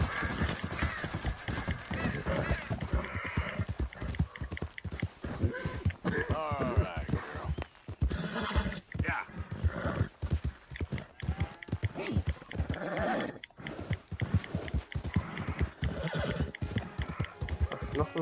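Close horse whinnies and neighs mix with hoof clatter in the Western video game Red Dead Redemption 2, busy and dense, with game sound and some voice-like layers running throughout.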